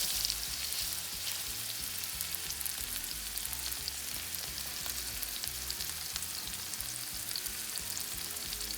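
A rubbed ribeye steak sears in a hot cast iron pan with a dense, continuous, close crackling sizzle that holds even throughout, and no one talks.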